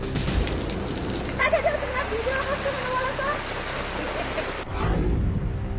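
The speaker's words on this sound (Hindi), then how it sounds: "तूफान की आहट के साथ आफत की बारिश।" Dense, steady downpour of heavy rain from an approaching cyclone over the Bay of Bengal, hissing across the whole clip, with a deep rumbling low end and a brief gust-like swell near the end.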